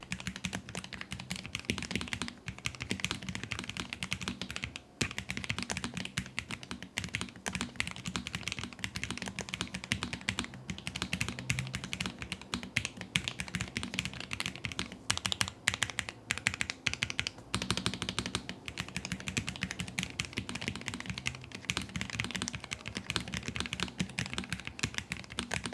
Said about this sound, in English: So here's what it sounds like typing on the Lofree Flow.